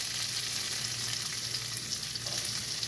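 Chopped onion tipped into hot oil with crackling mustard seeds, curry leaves and chilli, giving a loud, steady sizzle with a continuous hiss throughout and no voices.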